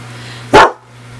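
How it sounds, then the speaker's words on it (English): A German Shepherd guard dog gives one sharp, loud bark nearby, followed by quiet. "there's my Sadie, my German Shepherd, my guard dog. I think she hears somebody"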